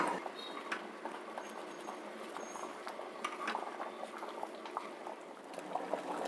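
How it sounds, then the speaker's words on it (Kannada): Liquid simmers in a cooking pot for a traditional dish sweetened with powdered jaggery, giving a faint, continuous bubbling and popping patter close by. "ಕುದೀತಾ ಇದೆ"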